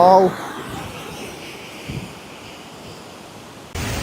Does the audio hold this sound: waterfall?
yes